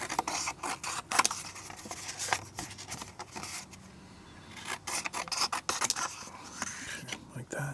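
Watercolor paper being trimmed by hand, a series of close, quiet rasping and scraping strokes with brief gaps between them.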